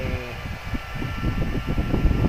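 Cooling blower fan of a newly unboxed welding machine running steadily, a close, even whirring hum with a faint tonal whine and no voices.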